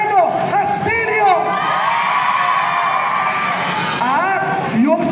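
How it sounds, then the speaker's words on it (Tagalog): A loud political rally crowd in Malabon shouts and cheers continuously, with whoops and yells rising over a dense roar of voices throughout. "Isang malakas na sigawan!"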